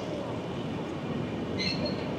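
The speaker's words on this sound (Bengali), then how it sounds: "ফাইনালি 2 মিনিট হল্টের পর আমাদের ট্রেন কিন্তু বরাকর স্টেশন ছেড়ে বেরোচ্ছে।" Shaktipunj Express pulling out of Barakar station, a steady low rumble of wheels and carriages heard from inside the train, with a brief high metallic squeal near the end.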